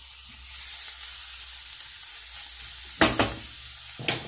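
Chard frying in oil gives a soft, steady sizzle, broken near the end by a few sharp clinks of stirring.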